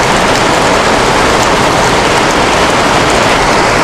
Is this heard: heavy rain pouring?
yes